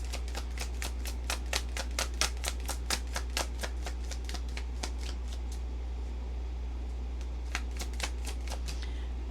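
A deck of tarot cards is shuffled close up in a quiet room: a long run of crisp, rhythmic riffling flicks that pauses briefly, then resumes, over a low steady hum.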